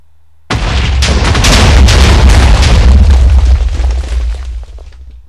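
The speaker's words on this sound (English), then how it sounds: "25 pieces of TNT. Let's go." Twenty-five TNT blocks going off in Minecraft: a sudden very loud explosion that rolls into a continuous crackling, rumbling barrage of overlapping blasts lasting several seconds before fading out.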